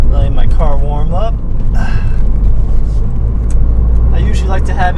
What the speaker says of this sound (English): Letting my car warm up.